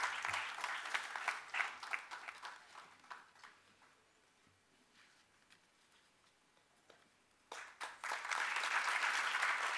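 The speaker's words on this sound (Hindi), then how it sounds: "तालियों से हम आपका आभार प्रकट करते हैं।" Audience applause at the Ved Awards ceremony fills the hall, loud at first, thinning to a soft patter in the middle, then swelling back to full clapping near the end.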